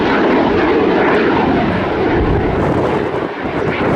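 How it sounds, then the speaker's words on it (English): A jet aircraft performs at the Royal International Air Tattoo air show, its engine roar loud and continuous throughout the short stretch without pause. "see how that arrests the forward trajectory of the aircraft"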